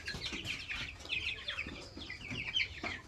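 Many chickens on a poultry farm cluck and chirp together in a busy, continuous chatter, with sharp higher calls rising above the low murmur of the flock.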